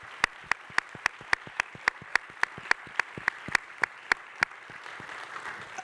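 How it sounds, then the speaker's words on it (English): Applause at an art and storytelling evening about designing Shōgun, heard as a steady train of sharp, evenly spaced claps that sound like one or a few people clapping close by, over a faint background murmur. "another round of applause for them"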